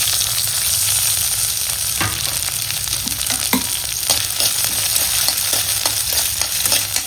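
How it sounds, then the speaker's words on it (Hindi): Green chillies and onion sizzling steadily in hot oil for an idli chutney, a loud continuous frying hiss with a few stirring scrapes and taps, no voices. "तेल डाली मैं, तेल के अंदर हरी मिर्ची डाली, प्याज डाली"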